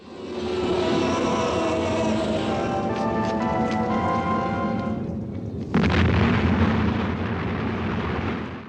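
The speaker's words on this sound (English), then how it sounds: "being confused causes him to explode" A loud, sustained rumbling blast from Doctor Who roars for several seconds, then a second sharp boom cuts in partway through and rolls on, dense and close with no voices.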